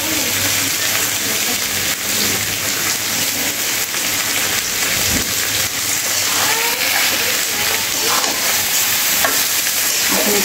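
Chicken pieces frying in a pan give a steady, dense sizzle that runs unbroken and close throughout, with occasional scraping stir sounds over it.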